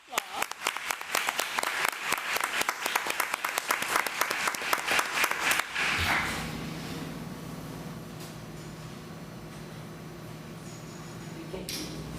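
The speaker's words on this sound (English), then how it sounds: "let's please give them all a round of applause" Applause at a regular board meeting: rhythmic group clapping for about six seconds, fairly close and lively, then dying away into room murmur with people talking quietly.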